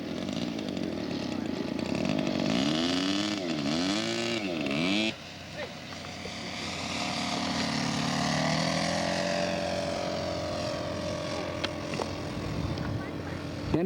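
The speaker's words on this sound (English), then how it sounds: "Dennis Hepburn just finished a wing over with his Newport 28. Nice going, Dennis. Flyby." A model Nieuport 28 biplane at a scale aircraft show makes a flyby, its small buzzing engine rising and falling in pitch as it passes, then fading to a steadier drone; a voice is heard over it.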